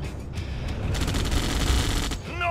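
Unit gunfire in the strategy video game Red Alert 2: Yuri's Revenge, a dense rattle of overlapping shots and bursts sustained through the moment, with a brief whooshing effect near the end and no voices.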